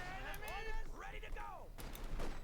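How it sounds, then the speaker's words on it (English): Grenades burst during a Company of Heroes 2 battle, with sharp blasts and rumbling explosions set among whistling, sweeping tones and busy battlefield noise. "There you go, the flanking grenades."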